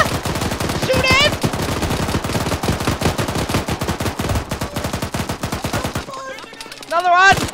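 Rapid, dense gunfire in the video game Arma 3, sustained automatic bursts cracking steadily for several seconds, loud and close, with voices shouting over it near the end.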